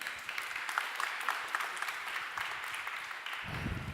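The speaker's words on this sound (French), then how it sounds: "Sous vos applaudissements." Audience applause at a Smart City Grand Paris awards ceremony, a steady patter of many hands heard at moderate distance and fairly soft, lasting the whole moment.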